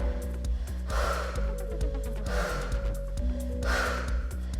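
Rhythmic heavy breaths and sharp exhales from a person doing a leg and glute workout with a fitness resistance band, recurring every second or so over steady background music.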